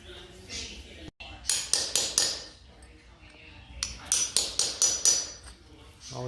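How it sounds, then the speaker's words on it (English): Hammer blows on a cold chisel cutting a channel for a Pergo laminate transition strip, two quick bursts of about five sharp ringing metallic strikes each, close and loud, separated by a quieter pause. "Yes, there's a cold chisel."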